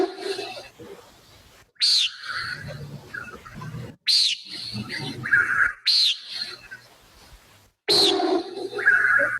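Common nighthawks give repeated buzzy nasal calls in bursts of several, near and fairly loud, and a low, rushing wing boom comes with them against a quiet dusk background.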